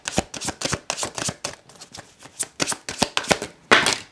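Tarot cards shuffled by hand, a rapid series of close, crisp riffling snaps and flutters in an uneven rhythm, with no talking.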